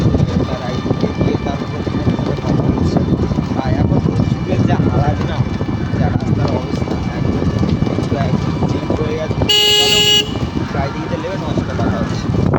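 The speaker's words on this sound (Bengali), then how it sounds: "ফাইনালি মামুরা টোটোতে উঠে গেলাম এখন টোটোর ভিউ মুভমেন্টটা দেখতে পাচ্ছ" An electric toto rickshaw ride at night, giving a steady loud rumble of wind and road noise with a brief horn blast near the end. A person talks over it.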